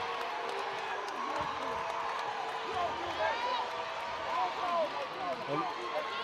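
A high school basketball crowd at a Blackman vs. Oakland game cheers and whoops steadily, with sneakers squeaking on the court and a busy hum of voices throughout.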